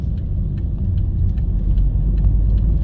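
A car driving, with a steady low engine and road rumble heard from inside the cabin and faint small clicks and rattles above it, with no talking.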